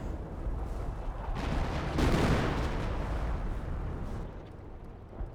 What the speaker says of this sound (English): Artillery running in here, here, a bit of everywhere.